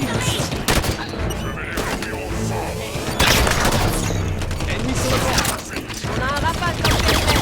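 Rapid gunfire and bursts during a Halo 5: Guardians campaign battle against Covenant forces, dense and loud over game music and effects, with radio voices talking over it.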